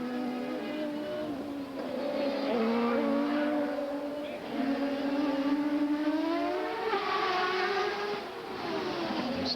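CART race cars at the 1997 Detroit street race scream past with high, wavering engine notes that rise and fall as they accelerate, loud and continuous, with faint commentary-like voice underneath.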